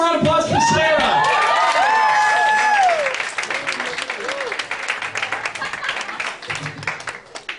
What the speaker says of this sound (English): One more round of applause for Sarah